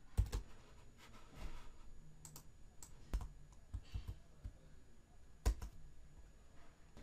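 Fingers type on a computer keyboard in short irregular bursts of crisp clicks and taps, with a few louder isolated keystrokes and quiet gaps between runs, close and alone with no talk.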